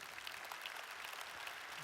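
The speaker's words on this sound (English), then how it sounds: "Applaud if you've ever had that moment, you've fallen in love" A keynote audience applauding in a large hall, a faint, distant wash of many hands clapping steadily through the brief moment.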